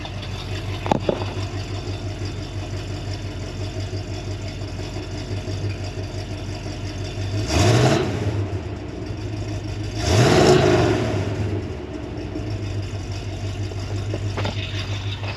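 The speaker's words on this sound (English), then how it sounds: "Sounds peppy for a 327, I'll tell you that." A 1965 Chevrolet Malibu SS with a 327 V8 and a Holley carburetor idles steadily up close, then revs up twice in quick surges that fall back to a loping idle.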